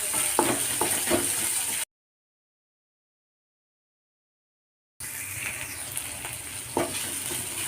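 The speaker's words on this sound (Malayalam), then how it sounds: "നന്നായിട്ട് ഇളക്കി കൊടുക്കാം" A vegetable stir-fry stirred in a hot pan, with a loud, close sizzle and scraping strokes, cut off by a few seconds of silence before the frying resumes.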